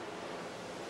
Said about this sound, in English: I'll flush it now.